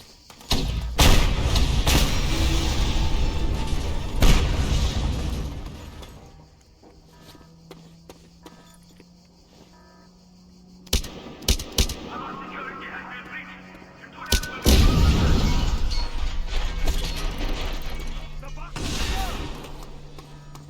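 Gunfire in a faction mission and stronghold capture in a video game: several sharp, loud shots in short bursts, some close together, set against rumbling ambience and a low steady hum, with quieter gaps between volleys.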